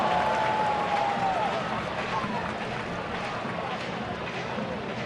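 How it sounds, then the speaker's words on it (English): A lively baseball crowd murmurs and cheers steadily in the background of a ballpark, a continuous wash of noise under a commentator's voice throughout. "Another lively crowd."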